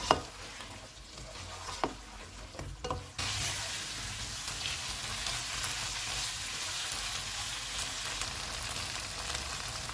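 Hot and spicy chicken, tossed with lime juice and coriander, is stirred in a pan over medium heat. A steady, loud sizzle fills the scene after a few sharp scrapes and taps of the spoon at the start.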